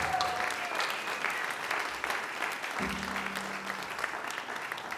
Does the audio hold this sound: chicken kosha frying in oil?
no